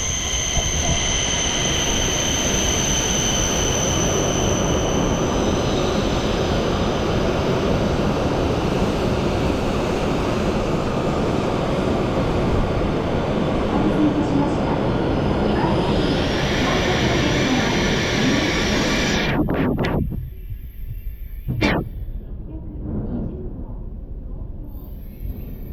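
A loud, steady rumble and rush fills the ride aboard a Japanese Shinkansen bullet train travelling at speed, with high whining tones above it. Near the end the noise suddenly drops away briefly, as if passing a tunnel portal.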